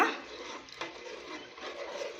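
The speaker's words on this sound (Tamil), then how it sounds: "நாலு டம்ளருக்கு எட்டு டம்ளர் தண்ணி வந்து நம்ம அளந்து ஊற்றிருக்கோம்" Water is poured from a tumbler into a cooking pot while ghee rice is being made, giving a steady, close splashing stream that runs for a couple of seconds with no talk over it.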